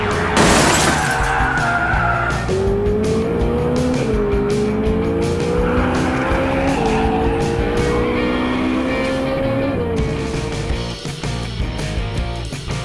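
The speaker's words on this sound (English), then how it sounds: "all of our monster trucks have passed the first obstacle." Cartoon monster trucks race with revving engines and squealing tires, engine pitch rising and shifting steadily over the loud, continuous action.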